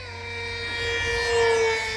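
A steady, whining motor drone from an RC MiG 29 model jet flying in wind, holding a continuous tone that swells slightly louder toward the end.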